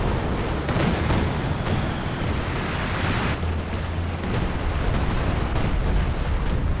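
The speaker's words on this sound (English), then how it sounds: "Big artillery hitting those mortars" Heavy artillery shells land on mortar positions in the World War II strategy game Company of Heroes 2, a dense, continuous rumble of distant booms and rattling gunfire filling the scene without pause.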